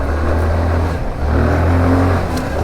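A Daytona Versus 125cc scooter engine revs and accelerates, a steady close-up drone with rising and falling pitch, heard alone without talk.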